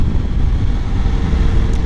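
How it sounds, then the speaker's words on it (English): Heavy wind buffets the microphone in a constant low roar on bleak hills in the Pennines and Yorkshire Dales, loud and unbroken, with no voices. "it's very windy, and it's quite bleak"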